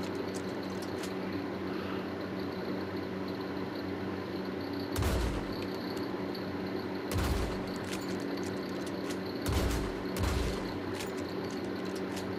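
Gunshots in a Western-style open-world video game, fired inside a building: three loud, deep booming shots a couple of seconds apart over a steady background hum.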